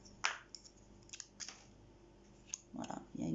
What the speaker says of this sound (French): Voilà, il y a une paire de ciseaux.